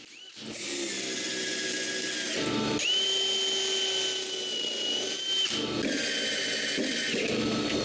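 A power tool whines steadily and close while screws drive a piece of wood onto a workbench. The motor's pitch shifts a few times across the run, and nobody speaks.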